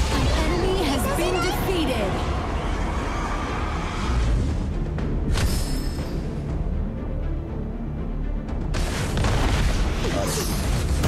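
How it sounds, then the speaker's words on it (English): A deep boom of a tower being destroyed in a mobile 5v5 battle arena game, rumbling loudly through dense game effects and crowd-like noise, with an announcer voice speaking. "Your team has destroyed a tower."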